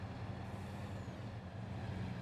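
In Farming Simulator 22, a truck hauls a long trailer train with a dolly between the trailer sets, giving a steady heavy diesel drone with a broad rumbling hiss, continuous and fairly loud, no voices.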